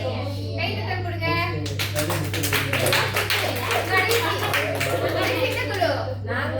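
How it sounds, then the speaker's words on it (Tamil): Children in a classroom clapping together in a quick, steady burst that runs through most of the moment, with kids' voices and chatter mixed under and around the claps. "சரி, கைத்தட்டல் கொடுங்க."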